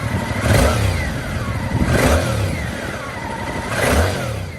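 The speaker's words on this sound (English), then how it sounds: "That 270-degree crank gives it this lumpy, character-rich exhaust note that makes the bike feel alive" A Japanese naked motorcycle with a 270-degree crank engine revs loudly and close by in three lumpy bursts about every two seconds, with the exhaust note swelling and falling between them.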